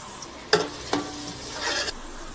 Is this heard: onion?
yes